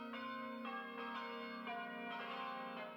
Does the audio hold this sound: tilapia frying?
no